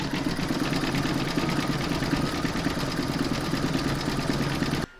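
An embroidery machine stitches round five of a large pig applique in the hoop, a steady rapid mechanical whirring hum that runs evenly and close before cutting off abruptly near the end.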